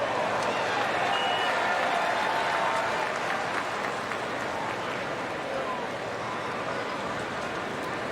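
A large baseball crowd at Wrigley Field for a Cubs game, giving a sustained wash of cheering and applause that holds steady throughout with no clear break.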